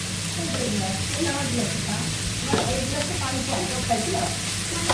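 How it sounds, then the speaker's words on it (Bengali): Bitter gourd frying in a pan with salt and a little turmeric gives a steady, close sizzle throughout, with soft stirring and faint voices beneath. "লবণ দিয়ে দিচ্ছি একটু হলুদের গুঁড়া সামান্য আমরা করলা ভাজিতে হলুদের গুঁড়া কমে থাকে"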